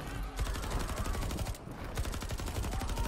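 Rapid gunfire in the video game Mortal Kombat X, a dense run of shots clattering steadily throughout over a busy game background.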